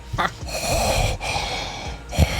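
A voice imitates Darth Vader's heavy mechanical breathing, slow rasping inhales and exhales close to the mic, with a short puff at the end.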